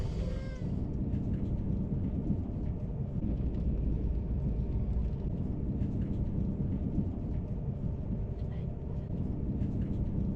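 Rain heard from inside a TGV Réseau high-speed train climbing through the French Alps toward Chambéry, a dense, steady rushing wash mixed with low rumbling train noise that holds constant throughout.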